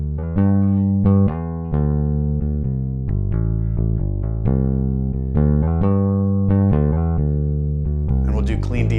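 Clean direct-input electric bass played with the fingers in a rock groove loop from EZ Bass's Classic Rock EBX library, steady plucked notes with a round low end, loud and alone.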